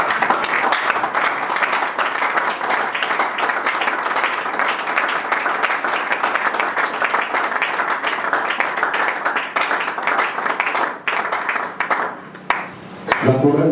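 A church congregation applauding to acclaim Jesus, a dense sustained roar of many hands clapping that carries on steadily before thinning out near the end.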